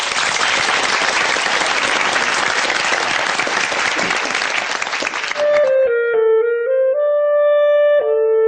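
An audience applauds steadily for about five seconds, a dense, loud wash of clapping before it gives way to sustained clarinet notes playing a slow melody.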